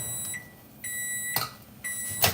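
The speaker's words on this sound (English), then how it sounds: "you do not own the rights to the sound of my microwave" A microwave oven beeps in a kitchen, three separate bursts of steady high electronic tones with short gaps between them, each ending in a brief clatter, loud and close with no talking.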